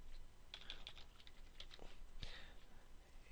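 Quiet typing on a computer keyboard, a short run of soft, irregular key clicks heard close and alone.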